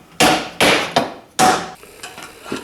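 Hammer blows folding copper hip coverings on a slate roof: four sharp, loud metallic-wooden strikes in an uneven rhythm, then several lighter taps, close by with no talking.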